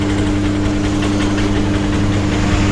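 A Honda Stunner motorcycle engine, freshly fitted with a new piston after a seized engine, idles steadily and loudly up close with a continuous low rumble and slight mechanical knocking.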